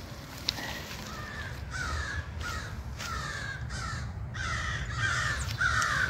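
Crows in Blue Ridge Mountain woodland give a run of harsh caws, several distinct calls in quick succession, some nearer and louder toward the end, over faint forest ambience.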